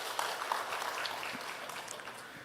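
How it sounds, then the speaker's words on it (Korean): A church congregation at a Sunday worship service applauding together, a dense, even patter of many hands clapping that fades slightly over a couple of seconds. "우리 박수로 한번 축복하겠습니다"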